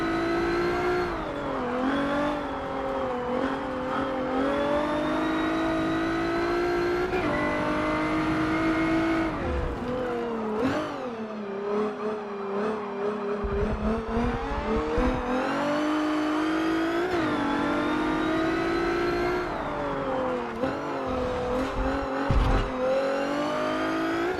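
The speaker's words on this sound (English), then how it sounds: "This car has a very wiggly start." A race car engine in Forza Motorsport 7 drones and revs continuously at the start of an online race, pitch climbing and dropping through gear shifts, with brief lifts off the throttle and tire noise.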